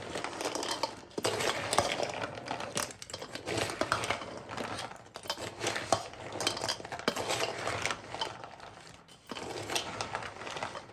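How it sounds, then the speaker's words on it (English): A spoon stirring a Fiji-style Lakdi Mithai sweet mixture in a pan for Diwali, with repeated scraping and clinking of utensil against metal in bursts, close and fairly quiet, with no talk. "we'll give this all a good stir"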